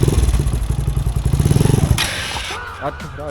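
A motorcycle engine chugs in a fast, throbbing idle as the rider pulls the clutch and clicks into first gear, followed by a brief rising rev; close and loud, with a voice speaking at the end.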